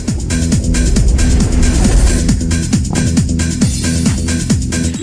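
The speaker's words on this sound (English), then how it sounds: "what you're hearing is the car's short message system" A car's short message system alert sounds in a video game: loud, repeating electronic chirps that sweep downward in a quick rhythm over a driving, music-like pulse.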